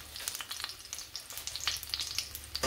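Onion and garlic frying on a griddle give a quiet, crackly sizzle full of tiny popping spits, continuous and fairly soft, heard up close with no one speaking.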